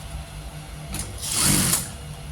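A sewing machine runs a short test seam after its upper thread tension has been loosened, a brief mechanical whir of stitching rising and falling in about a second, close up and alone.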